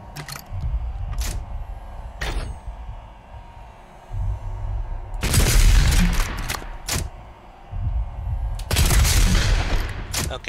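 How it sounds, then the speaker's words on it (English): Loud, punchy shotgun blasts in Doom Eternal, with sharp single reports early on, then two heavy bursts of booming fire each followed by a few quick shots, over an in-game background rumble. "Okay, didn't mean to shoot twice."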